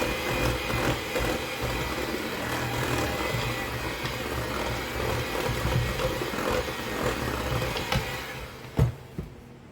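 Spice cake batter is mixed in a bowl with a steady, loud, whirring mechanical drone that runs continuously and ends with a couple of short knocks.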